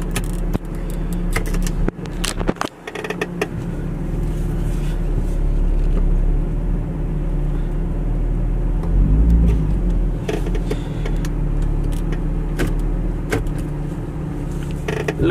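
A Nissan 350Z's engine rumbles steadily throughout, a continuous low idle-like drone with brief knocks and rattles, heard close with no talk over it.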